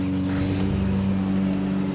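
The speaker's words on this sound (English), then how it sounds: "Well, the engine starts." A high-mileage car with about 315,000 miles, its engine running steadily with a low, droning idle and harmonic hum throughout, close and continuous with no voices.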